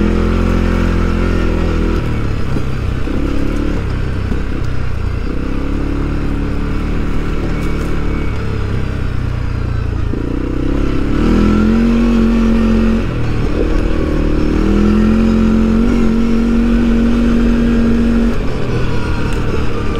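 A CFMOTO CFORCE 400 ATV engine with a small motor revs and accelerates up close, its steady drone climbing in pitch in several surges over twenty seconds, loud with no talk.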